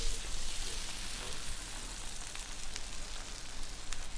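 Pepperoni pizza grilling in a pan gives a steady, even sizzle and crackle, close and constant, with no talk over it.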